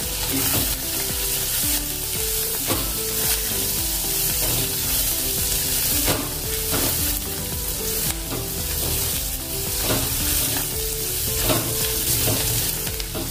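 Finely chopped garlic, green chili and ginger sauté in a pan, a dense continuous sizzle with rhythmic stirring scrapes and clinks throughout, close and fairly loud, with no talking.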